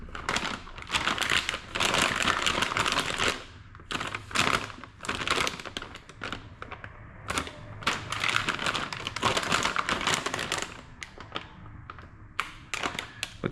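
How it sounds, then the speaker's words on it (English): Close crinkling, tapping and rustling as the packaging of a Boomslang Haltech Nexus R5 wiring harness for a 1993-98 Toyota Supra 2JZ-GTE is opened, coming in irregular bursts with brief pauses and no speech. "Let's open her up."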